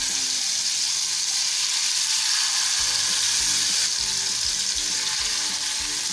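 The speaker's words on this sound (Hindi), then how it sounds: "ऑयल गर्म हो चुका है। अब हम इसमें इस तरह से बोटियाँ डालेंगे।" Chicken tikka pieces sizzle loudly and continuously in hot oil in a pan, a dense close-up hiss and crackle with some low rumbling beneath; no speech.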